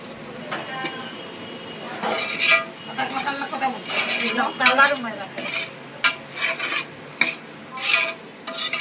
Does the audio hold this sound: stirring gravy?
yes